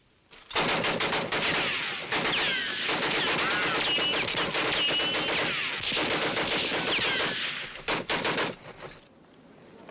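A newly acquired rifle test-fired in a classic Western film, heard as a loud, sustained volley of rapid gunfire that runs almost unbroken for several seconds before breaking into a few last separate shots.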